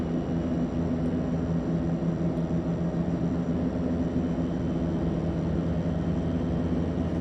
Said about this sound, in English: This thing is an amazing short takeoff and landing aircraft, so we should have no trouble at Saba.